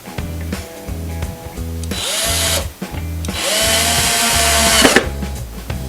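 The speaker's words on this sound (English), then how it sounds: "go ahead and drill a couple of holes and drive in the screws." A power drill drives screws into a wooden cabinet door, two long whirring runs that rise in pitch and stop, separated by repeating tonal music, close and loud.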